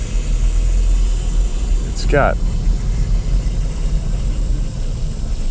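An abandoned Dodge Omni runs under its own power on its first start in 15 years, a continuous low engine drone close by, with a brief sharp squeal or chirp near the middle over the steady hum.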